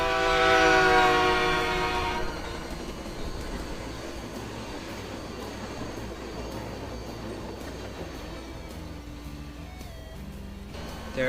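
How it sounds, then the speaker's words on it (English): A locomotive in the Rails Unlimited train game blasts a Leslie RS3K sandcast air horn, a loud chord that sounds for about two seconds, then fades into steady rumbling rail noise. "That is a Leslie RS3K sandcast air horn built by Leslie"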